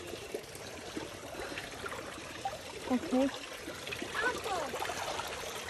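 Cold spring water at Bad Teinach-Zavelstein trickles and splashes steadily nearby, a soft continuous gurgle with a person speaking briefly over it.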